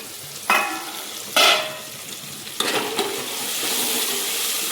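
Tomatoes and spices sauté in a pan: a steady sizzle broken by a few sharp scrapes and clinks of a spoon stirring, close and moderately loud, with no talk.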